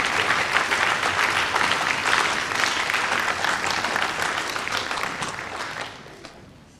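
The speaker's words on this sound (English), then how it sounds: "Let's give them a round of applause to just congratulate them." An audience at a spring concert in Vicenza applauds the student performers, loud dense clapping that carries for several seconds before tapering off and fading near the end.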